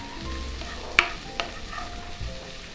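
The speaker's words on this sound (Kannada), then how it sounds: "ಜಸ್ಟ್ ಇದು ಹಾಕ್ಬೇಕಾದ್ರೆ ನಮ್ಮ ಪನ್ನೀರ್ ಹಾಕ್ತಾ ಇದ್ದೇನೆ, ಯಾಕೇಳಿದ್ರೆ ಅದು ಇದ್ರೊಟ್ಟಿಗೆ ಸ್ವಲ್ಪ ಫ್ರೈ ಆಗ್ಲಿ" Paneer fries in a pan at a cooking show, giving a faint, steady sizzle broken by a few crisp clicks as a utensil stirs it.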